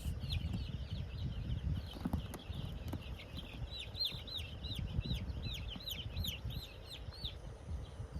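Chicks at a poultry farm cheep and cluck in a rapid run of high calls over a dense, rumbling shed background during Ranikhet eye-drop vaccination.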